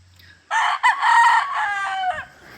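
Backyard chickens: a rooster gives one loud, close crow that rises and falls over about two seconds, with hens clucking faintly just before and after.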